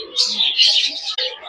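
Colourful caged birds with parrot-like beaks chatter in a continuous stream of high, squeaky chirps and calls, close and fairly loud, in an indoor kids' fun place.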